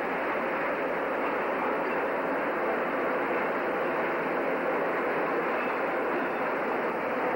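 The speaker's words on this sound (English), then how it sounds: "Here's our train." A train rumbles past on the railway as a steady, loud, continuous roar of wheels and cars, with no speech over it.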